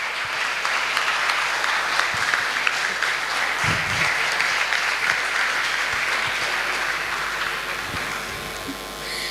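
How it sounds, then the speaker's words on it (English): Dense, steady applause from an audience at an Engineer's Day celebration in Mumbai honours the winning cricket team, a continuous wash of many clapping hands that fades slightly toward the end. "Give a big round of applause for the team and Omkar Gharke."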